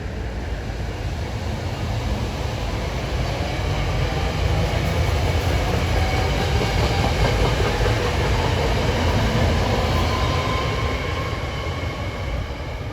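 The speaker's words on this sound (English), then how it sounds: "Here comes train 651 to Harrisburg now at 5:55. Cab car first." A commuter train arrives loudly and continuously, cab car first, wheels clattering on the rails with a steady roar that fills the whole stretch.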